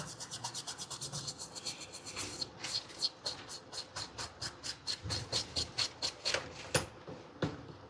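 A brush scrubs thinner over a water-corroded Redmi Note 10S phone circuit board, giving a close, fast run of rhythmic scratchy strokes that carries on steadily without talk.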